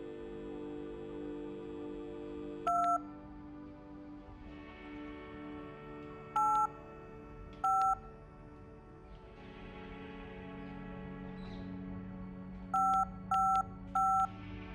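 Telephone keypad tones beep in short bursts, a single one, then a pair, then a quick run of three, while a call is placed in the video game Lost Records: Bloom & Rage, set over a soft game ambience.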